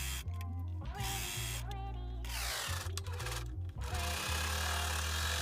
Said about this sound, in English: Sew along the whole opening, making sure you're pulling the elastic and the fabric taut the whole time.